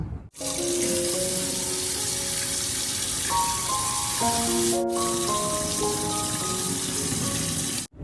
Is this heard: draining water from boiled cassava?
yes